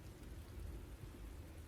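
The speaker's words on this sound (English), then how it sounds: "Rain continues to fall on the rock above." Rain falls steadily on rock above a sheltered space, a soft, even, faint wash of noise with a low rumbling undertone and no distinct drops standing out.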